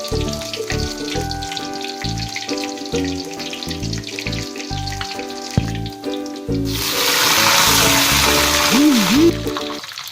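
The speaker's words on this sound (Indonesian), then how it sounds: "goreng bawang" Shallots hit hot oil while cooking an Acehnese dish, a broad crackling sizzle surging up loudly in the latter half over steady background music.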